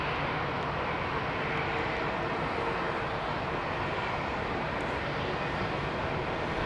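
A jet airliner roars off runway 27R at London Heathrow, a steady, dense broadband engine rumble holding loud and even for several seconds with no voices.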